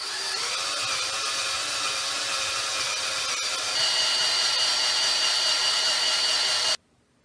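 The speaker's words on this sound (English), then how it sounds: "now that I finished drilling this big hole out" Power drill boring a big hole into soaked wood, a continuous high whining grind that steps slightly louder partway through, then cuts off abruptly near the end; no voices.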